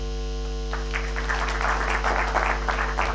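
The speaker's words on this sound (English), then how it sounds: "give a round of applause to first ourselves" Audience applause at a summit conference, a scattered clapping that builds into steady applause from a seated crowd in a hall, heard alone without speech.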